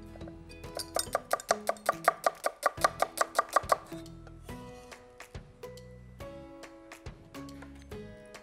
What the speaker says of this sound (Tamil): ஸோ இந்த அவகேடோவை ஒரு சின்ன சின்ன ஸ்லைசஸாக நம்ம போட்டுக்க போகிறோம்